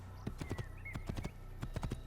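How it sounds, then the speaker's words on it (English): Horse hooves clip-clop in the video game Assassin's Creed: a quick, steady run of hoofbeats in small clusters, close and clear over a low, constant background hum. "How do I get on the horse?"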